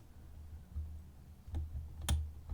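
Pins clicking inside an IFAM Rookie bike disc lock as it is picked: two small, sharp clicks close together, faint against a low, steady background hum.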